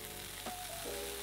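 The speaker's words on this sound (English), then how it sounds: "Wow, I like the sizzling sound of the cheese." Cheese frying on a hot pan while a waffle sandwich is cooked, giving a steady, close sizzle with a brief louder crackle partway through and no talking.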